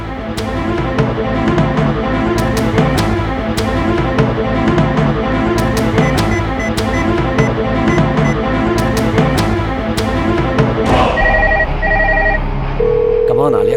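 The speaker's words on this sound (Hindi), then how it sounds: "Pick up the phone." A telephone rings in a Hindi TV serial scene, sounding near the end over a dense, loud music score that dominates the whole stretch; the ringing is brief and partly buried by the music.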